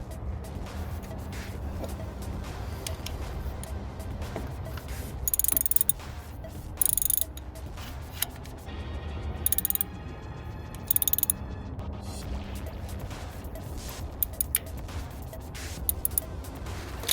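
Spark plugs and ignition coils being fitted on a 2015 Toyota RAV4 engine during a tune-up, with scattered close mechanical clicks, rattles and ratchet-like ticks, plus several short bursts of louder handling noise, and no talking.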